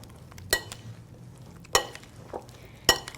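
Fruit salad with pudding is stirred in a bowl, giving three spaced, sharp utensil clinks against the dish amid soft, wet mixing sounds, fairly quiet and close.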